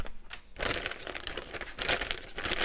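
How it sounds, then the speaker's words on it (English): A thick plastic packaging bag from a diamond painting kit crinkles and rustles in close, loud, irregular bursts, with no voices. "They come in this really nice, thick, crinkly plastic bag, which is, yeah, it's quite a thick bag."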